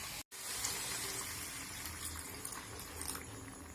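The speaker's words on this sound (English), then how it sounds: "Now we are going to add water 1:2." Water poured into half a cup of rice for mint pulao, a steady broadband splashing stream that runs almost the whole time after a brief gap near the start, with no voices.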